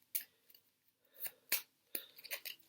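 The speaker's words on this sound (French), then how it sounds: "On va même faire des mélanges." A deck of playing cards is shuffled by hand in a few quick, crisp snapping bursts, close and fairly quiet, separated by short pauses.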